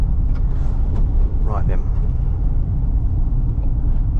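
An old van with drum brakes all round rolls along the road, its engine giving a loud, steady low rumble from inside the cab while someone speaks briefly over it.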